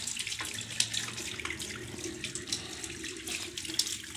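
Water runs steadily from a tap as it is poured over a silkie hen during a bath, a continuous close splashing stream.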